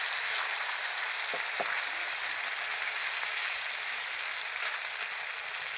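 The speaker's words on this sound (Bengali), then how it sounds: "এবার আমি মাছ ভেজে নেব" Snakehead fish sizzle in hot oil in a wok, a steady close crackling hiss that holds even throughout with a couple of soft knocks near the middle.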